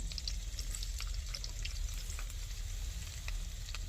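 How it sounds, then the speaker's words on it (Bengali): Chopped garlic fries in oil for restaurant-style cauliflower 65, a soft continuous sizzle with faint crackles and a low background rumble, heard outdoors without talking. "তেলে দিয়ে দিচ্ছি রসুন কুচানো রসুনগুলো দিয়ে দিচ্ছি"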